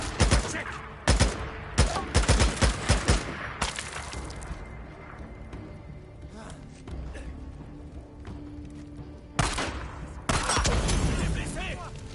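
Bursts of rapid video game gunfire from Days Gone crackle in volleys, then fade to a lull before heavy firing returns, with shouting voices mixed in.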